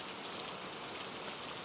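Steady, heavy rain falls continuously close by, a dense even wash of drops with no voices or other sounds.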